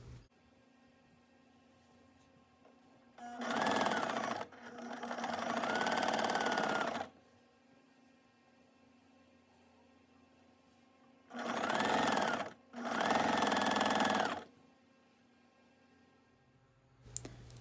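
A sewing machine stitches quilt rows in two chain-piecing runs, each a few seconds of steady motor whir with brief clicks between, close and alone with no talk.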